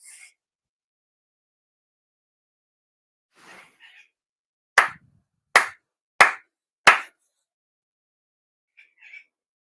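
Four deliberate hand claps in a Konko Kyo New Year prayer ceremony ring out in a slow even sequence, each crisp and close in an otherwise hushed room, with faint rustles and breaths before and after.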